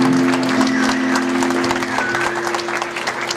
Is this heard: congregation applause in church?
yes